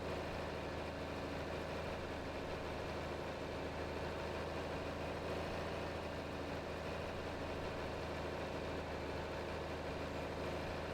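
A John Deere 4020 tractor engine in Farming Simulator 22 drones steadily while plowing new ground, a continuous low, even rumble with no talk over it.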